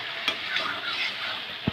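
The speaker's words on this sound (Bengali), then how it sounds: "এখন সমস্ত উপকরণ মিশিয়ে নেওয়া হচ্ছে।" Onion, ginger and garlic paste frying with tomato paste in a pan, a steady close sizzle under continuous stirring, with a couple of light utensil taps at the start and end.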